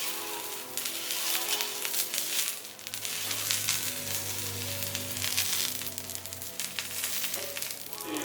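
Onion dosa sizzles and fries steadily on a hot pan, with a dense crackling hiss that holds throughout at moderate loudness and no talking.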